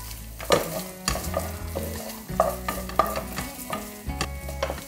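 Meat and chopped garlic for çoban kavurma frying in a pan, stirred with repeated scraping strokes in an uneven rhythm over a soft sizzle, heard close up with no talking.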